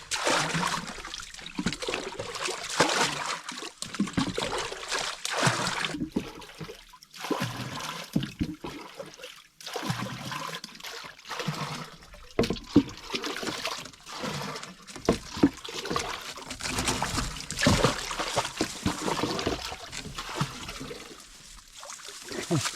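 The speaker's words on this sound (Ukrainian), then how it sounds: "відром вилимо воду" Water being bailed out with a bucket outdoors by a river on a cold day, irregular splashes, pours and trickles recurring in uneven bursts with quieter gaps between, fairly close and moderately loud.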